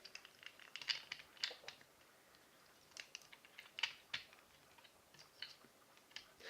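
Light plastic clicks and taps as the legs of a Transformers Generations Voyager Class Springer toy robot are tabbed together, faint and close, in scattered irregular bursts with no talking.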